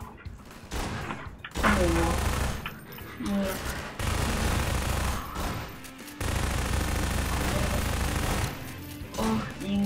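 Half-Life 2 Episode One combat: loud, sustained rapid-fire gunshots come in dense bursts with short gaps, while a man's brief exclamation sounds over the shooting.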